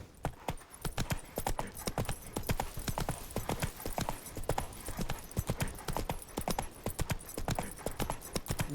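Horse hooves trotting in The Witcher 3, a steady rapid clip-clop that runs close and loud the whole way through, with a brief whinny near the end.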